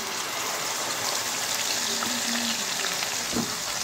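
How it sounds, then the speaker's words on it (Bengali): A ground paste of onion, ginger, garlic, green chilli and nuts with cardamom and cloves fries in a pan for egg korma, giving a steady, close, even sizzle with a faint clink near the end. "যে পেঁয়াজটা, আদা, রসুন, কাঁচা লঙ্কা, বাদাম আমি ভেজেছিলাম সেই মশলাটা এখন দিয়ে দিচ্ছি"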